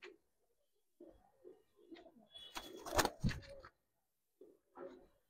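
Pangkhi silver pigeons cooing at close range, soft throaty coos in short separated bursts with quiet gaps between them, one louder cluster in the middle.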